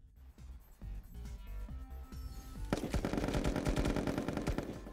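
A gun fires in Pummel Party, starting as sparse scattered shots and building after a few seconds into loud, rapid machine-gun bursts that continue to the end.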